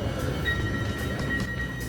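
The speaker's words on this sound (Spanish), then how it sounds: "Aquí tomamos el tren de 8:55 que va para Levanto" Train bound for Levanto in the Cinque Terre, departing La Spezia: a steady, continuous rumble of rolling carriage noise with a faint high tonal whine, close and even throughout, no talk.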